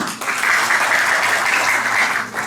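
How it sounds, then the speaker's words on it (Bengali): An audience at a public event declaring two unions free of child marriage breaks into loud, dense clapping that swells quickly, holds steady and then tapers slightly. "আপনারা একটা জোরে করতালি"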